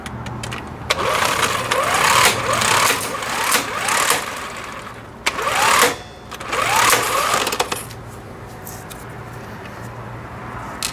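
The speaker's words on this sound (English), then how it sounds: "This one is an impact wrench" Impact wrench removing the clutch bolt on a GY6 150cc scooter, firing in several loud whirring, rattling bursts of about one to two seconds each, separated by brief pauses, close up with no talking.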